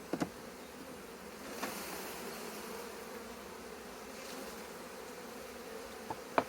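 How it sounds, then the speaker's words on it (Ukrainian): A swarm of young honeybees buzzes in a continuous low drone, humming steadily nearby at an apiary in a forest, with a few faint knocks at the start and end. "Молоденька бджола, гарний рій досить."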